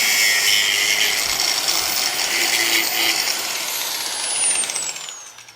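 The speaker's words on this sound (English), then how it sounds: "I'm going to get the grinder out on that again" A power grinder runs steadily, cleaning up a clutch part from a VW Beetle, with a bright, continuous high whine that holds for about five seconds and then winds down at the end; no one speaks.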